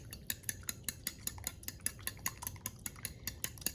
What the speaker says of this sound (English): Just whisk them all together.